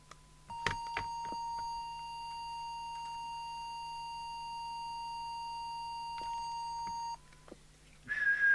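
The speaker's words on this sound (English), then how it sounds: "So we'll give it the quick whistle test." A steady whistle test tone from a marker oscillator on a JWR M2 UK CB27/81 mobile CB radio, one continuous pure tone held for about six seconds, with clicks at its start and end.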